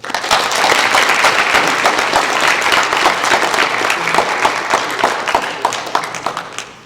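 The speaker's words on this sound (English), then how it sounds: "Please give them a round of applause" An audience at a high school National Honor Society induction ceremony claps steadily and loudly, a dense, sustained round of applause that thins out near the end.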